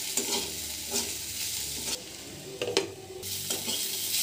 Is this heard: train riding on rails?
no